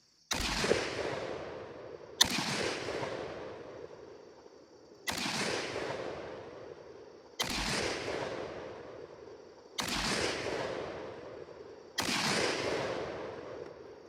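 Six sharp gunshots from a G3 battle rifle in the Battlefield 6 video game, fired singly at uneven intervals of about two seconds, each a hard crack followed by a long decaying echo, fairly faint overall with no talk.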